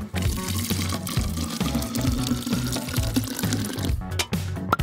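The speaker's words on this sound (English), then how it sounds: "Just add soda." Soda pouring into a bottle of water beads, a steady splashing liquid stream with gurgling and bubbling, loud and close throughout with no talk.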